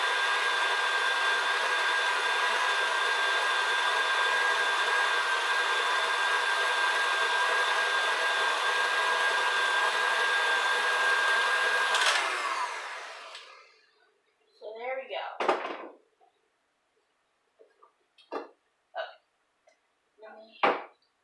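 An electric mixer kneading homemade pizza dough whirs steadily and loudly, then winds down and stops, followed by a few short knocks and clatters of the bowl and beaters.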